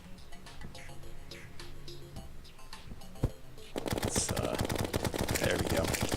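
Rapid automatic gunfire from chlorophyte bullets in Terraria, a continuous rattling stream of shots over game music that grows louder and denser partway through.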